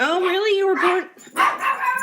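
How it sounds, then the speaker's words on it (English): A couple of dogs bark and yip in short bursts close by in a home, the barks overlapping with a voice talking. "Okay. Yeah, they're my dogs."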